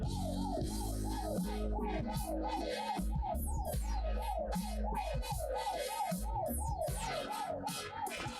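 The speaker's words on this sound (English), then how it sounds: "Ambulance, I would imagine." A wailing ambulance siren sweeps up and down in a steady, rapid cycle, loud and close, over a low rumble of traffic and engine noise.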